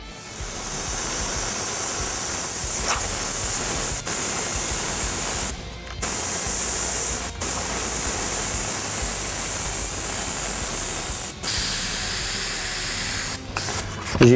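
Airbrush spraying paint over a stencil, a loud continuous close hiss of air and paint lasting many seconds, broken by a few brief pauses.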